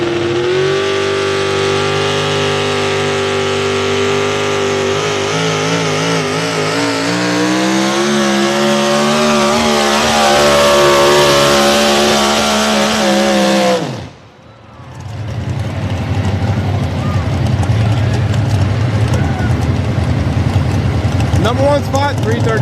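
A pulling truck at an evening truck pull in Millers Tavern, Virginia, roars at high revs with a wavering, climbing engine tone, cuts out abruptly for a moment, then comes back as a loud, rough, broadband roar close by.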